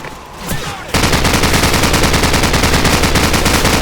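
Sustained machine gun fire erupts in a Call of Duty 4: Modern Warfare battle after a quieter opening. It is loud, close and unbroken, a rapid steady rattle running to the end with no speech.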